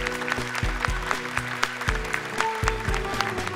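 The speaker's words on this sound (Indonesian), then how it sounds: "Tepuk tangan untuk Kak Nabila." Scattered clapping from an audience at a children's Quran memorization show breaks out over a low, steady musical backing, the claps light and irregular against sustained tones.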